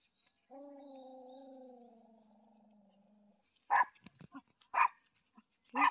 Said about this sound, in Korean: 이렇게 원래 안 짖는데 왜 이렇게 짖지?